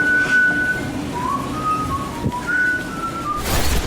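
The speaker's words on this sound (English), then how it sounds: "I'm not singing it, I'm whistling." A person whistles a Christmas tune in clear sustained notes, a short melodic phrase, then a pause and another run of notes, fairly close over low background hum.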